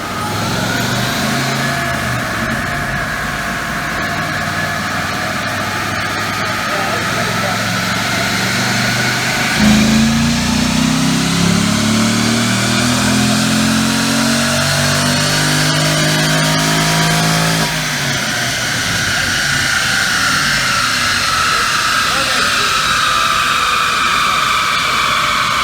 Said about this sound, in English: here we got a 2006 GTO. Sounds pretty stock